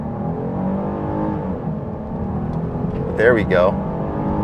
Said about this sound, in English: But sport mode, off the line, on the gas.